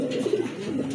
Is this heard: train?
no